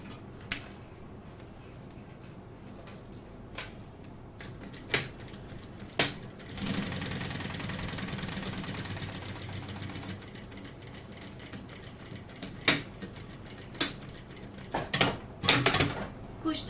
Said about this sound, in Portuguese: Costuradinho as nossas laterais e o nosso fundo.